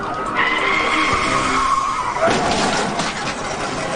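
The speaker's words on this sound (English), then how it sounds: "He's got a blown tire, and now units are moving in." A fleeing car with a blown tire skidding during a police chase: a loud, sustained tire squeal that shifts pitch partway through, over road noise and engine roar, without any talk.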